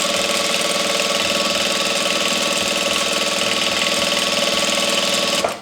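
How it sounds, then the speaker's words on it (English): A sewing machine back stitching through double-layered satin and cotton fabric runs with a loud, steady mechanical whir and rapid needle chatter, holding constant before stopping at the very end. "I'm going to just back stitch just to make sure, because I don't want no loose threads or anything coming out."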